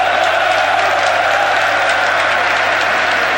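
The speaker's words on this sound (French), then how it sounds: "Et les applaudissements à l'adresse" Steady applause from a stadium crowd at a 1996/97 Champions League match between Club Brugge and Steaua București, directed at the linesman by the main stand in Bruges; a dense, continuous wash of clapping with crowd murmur and little talk.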